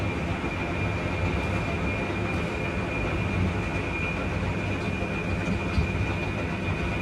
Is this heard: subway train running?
yes